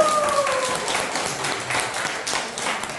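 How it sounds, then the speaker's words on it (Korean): An audience at a laughter therapy association lecture claps for the professor, giving steady, fairly close applause that carries on evenly for a few seconds. "수고하신 우리 총각 교수님 박수 한번 쳐주세요"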